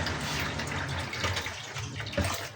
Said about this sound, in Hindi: अब पानी डालेंगे, तकरीबन 2 कप के आसपास पानी ऐड करेंगे